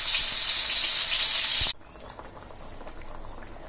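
Hilsa fish pieces go into a pot of boiling curry with tomatoes, a loud steady bubbling hiss that cuts off abruptly partway through, leaving quieter faint kitchen rustling.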